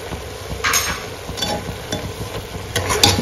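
Pork with bamboo shoot being stirred in a pan, a spoon scraping and turning the food in steady strokes over a soft continuous sizzle, close and fairly loud with no talking.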